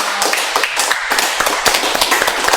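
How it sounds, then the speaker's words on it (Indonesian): Audience applause at a talk show about the film "Believe": loud, close, sharply separated hand claps from a modest group, irregular and crisp, with no talk over them. "Luar biasa, kita beri tepuk tangan sekali lagi dong"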